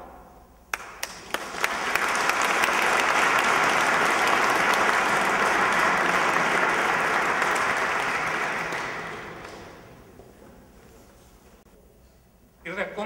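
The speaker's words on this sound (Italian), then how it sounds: "Un applauso." Audience applause breaks out at a local event, swelling quickly into a dense, sustained clapping that holds for several seconds before fading away, with a voice briefly returning at the end.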